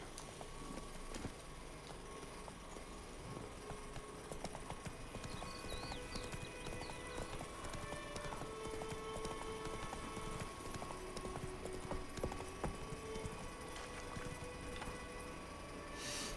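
Steady hoofbeats of the horse Roach clip-clop along in a video game, a quiet continuous rhythmic trot set against faint ambient game sound.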